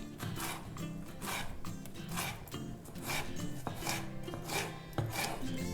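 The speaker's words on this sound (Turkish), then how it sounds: "Bütün malzemeleri jülyen olarak doğramaya özen gösterin." A knife chops vegetables into julienne strips for a vegetable noodle dish, giving a run of quick, rhythmic cuts against a board, close and clear with no talking.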